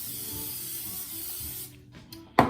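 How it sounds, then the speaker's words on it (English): Cooking spray hisses in a steady broad burst into a 13 by 9 baking dish, the spray running close and continuous for over a second before stopping, followed by a brief clatter. "I'm just gonna spray it with some spray pan."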